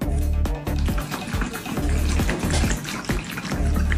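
Water sloshes and splashes inside a sealed plastic dumpling storage box as it is shaken by hand, a loud, busy run of repeated sloshing bursts filling about four seconds with no talking.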